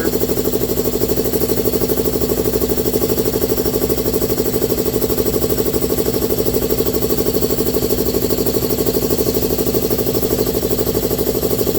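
An air compressor running to build pressure for a 3/8 shop air line, a loud, constant mechanical drone with a rapid pulsing chatter and no pauses.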